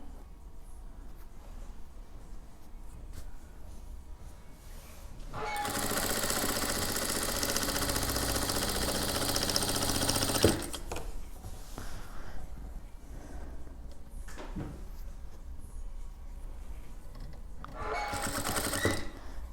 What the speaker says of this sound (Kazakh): Кішкене қайта тігіс бер жерем.